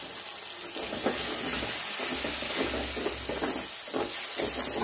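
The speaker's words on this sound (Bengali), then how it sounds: "দেখুন আমি এতে হালকা জল অ্যাড করলাম" Water splashed into spices frying in a pan for aloo dum gives a close, steady hissing sizzle with bubbling pulses over a few seconds, with no talk.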